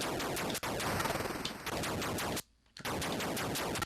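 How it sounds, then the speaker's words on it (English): Rapid-fire shooting effect from the Atari 2600 game Space Jockey, one shot sounding like a dense burst of gunfire, loud and continuous with a brief silent gap near the end. "if I shoot 1 bullet, It sounds like I'm shooting a like bunch"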